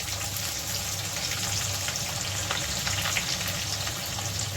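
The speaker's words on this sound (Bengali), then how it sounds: "এখন দিয়ে দিচ্ছি আমি এই যে পেঁয়াজ" Garlic pieces and onion dropped into hot oil for a Bengali dal with broccoli sizzle steadily and loudly throughout, a dense, even frying hiss with no voices.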